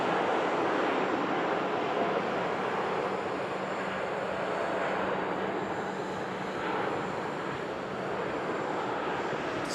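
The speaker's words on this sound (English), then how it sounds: "TUI Dreamliner's on the roll." A TUI Fly Nordic Boeing 787-9 Dreamliner rolls down the runway for takeoff at Manchester Airport, its engines making a steady, broad roar that stays loud and constant with no voices over it.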